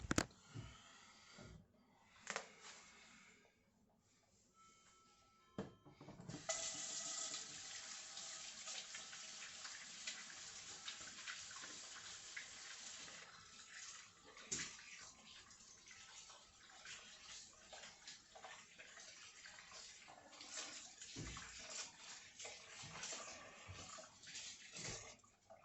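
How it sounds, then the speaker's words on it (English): Water runs from a kitchen sink tap while a hand is washed, starting after a few quiet seconds of clatter, then a steady rushing stream with splashes and a few knocks, fairly close, no talk. "Now I'm going to wash my hand."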